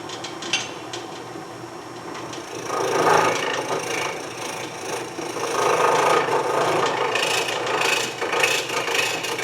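A lathe tool cutting a natural edge wooden goblet with a poorly drilled hollow, giving a close, continuous scraping rasp that grows louder and rougher with an uneven, chattering vibration.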